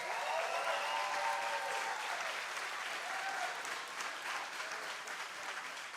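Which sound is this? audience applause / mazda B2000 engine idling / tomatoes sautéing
audience applause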